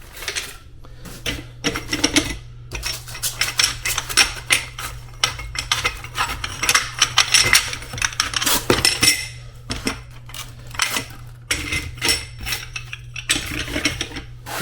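Subway wall tiles are mixed by hand, clattering and clinking together in dense, irregular bursts of sharp ceramic clicks with brief pauses between handfuls, close and fairly loud.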